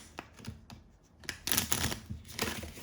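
Tarot cards are shuffled up close in a quick series of soft riffling and tapping sounds, fairly quiet.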